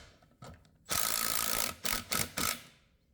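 A ratchet wrench with a socket adapter extension unscrews a part: one long, fast clicking run, then three short bursts of clicks, close and clear, with no talk.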